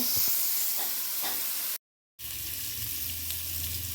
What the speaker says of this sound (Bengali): এখানে ফুলকপিটা ভেজে নিচ্ছি আর এখানে আলু ভাজাটাও নিয়ে নিচ্ছি